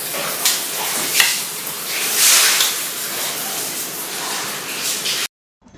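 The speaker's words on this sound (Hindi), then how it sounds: "तो इसको मैं हल्का सा मैश करूँगी और उसके बाद फिर इसको हल्का सा फ्राई करूँगी।" Boiled chana dal with a little leftover water fries in a pan on the stove, giving a steady loud sizzle and hiss that swells and fades a few times before cutting off abruptly.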